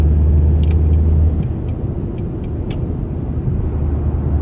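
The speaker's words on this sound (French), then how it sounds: "Là, le moteur est un petit peu plus bruyant." A Jaguar X-Type diesel car engine drones while accelerating toward 110 km/h. A steady low rumble of engine and road noise fills the interior, with a stronger low hum at the start that eases after a second, and no talking.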